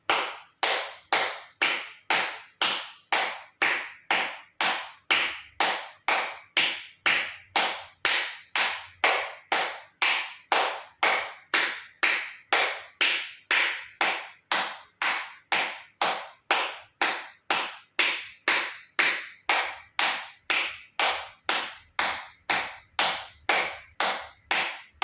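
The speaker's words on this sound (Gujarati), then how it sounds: "એક્યુપ્રેશર તાળી જોરથી હથેળી આંગળીઓ બધું ટચ થાય રીતે 50 વખત જોરથી તાળી આપીશું." Loud acupressure clapping, palms and fingers fully meeting, repeats about fifty times in a steady, even rhythm of sharp, close claps with nothing else heard.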